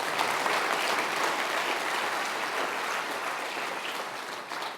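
A tech conference audience breaks into sustained applause, many hands clapping in a dense even roar that stays strong before tapering slightly at the close.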